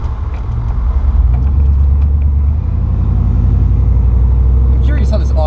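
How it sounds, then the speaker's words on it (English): A truck engine with a deep, bassy exhaust note rumbles loudly and steadily up close from inside the cab, the low drone shifting slightly partway through, with a brief clatter at the end. "I'm curious how this audio is gonna come out with this truck being as bassy in the exhaust note as it is"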